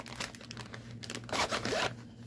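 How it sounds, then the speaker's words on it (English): A plastic bag around a craft project bag is handled, giving soft crinkling and rustling bursts close up, with a louder crumpling stretch midway and no talking. "So, and it comes in a nice plastic bag."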